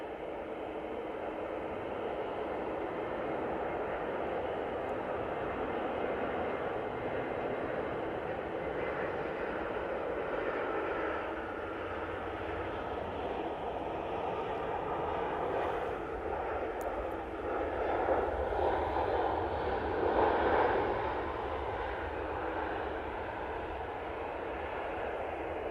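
easyJet Airbus A320-200 arriving from Malaga and touching down on runway 05 left at Manchester Airport, heard as a steady, moderately distant broadband jet roar that swells slightly near the end, with no talking.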